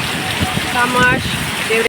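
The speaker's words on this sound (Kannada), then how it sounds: "ಗಾಳಿ ಮಳೆ ನೋಡಿ." Strong wind and driving rain lash an areca nut plantation during a storm, a steady rushing hiss running throughout beneath a man's close, excited talk.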